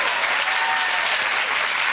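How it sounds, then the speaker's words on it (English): A television studio audience bursts into dense, loud applause that stays steady and close for the whole short stretch. "That it deserves a round of applause"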